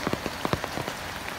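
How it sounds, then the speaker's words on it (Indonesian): A heavy storm downpour beats on a surface in a close, dense wash of drops with a few louder splatters, and no voices. "Hujan badai yang menimpa"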